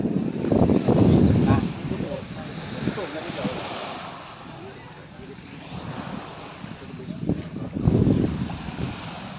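Waves wash in and out on a resort beach at Subic, Philippines, in slow surges, with wind buffeting the microphone and a voice speaking faintly underneath.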